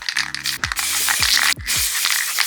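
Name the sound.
golden spray paint sprayed onto paper antlers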